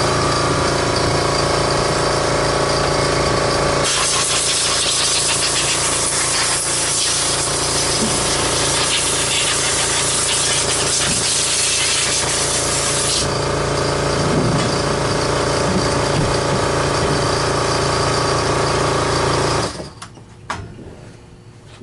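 Compressed air blasting through a Simplicity Riccar Centec central vacuum powerhead, a loud, harsh continuous hiss that swells in the middle and holds for about twenty seconds before stopping abruptly, close to the listener.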